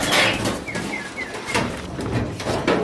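Chickens on a poultry farm in Kenya give scattered short, chirpy calls over a noisy background, with a few brief clunks.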